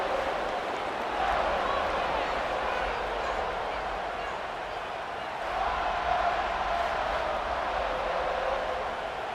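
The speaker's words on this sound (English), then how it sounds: "This crowd ready to make its presence known." A large stadium crowd roars steadily throughout a simulated college football game between Missouri and Florida State, a continuous loud wash of noise with swells, under a play-by-play commentator's voice.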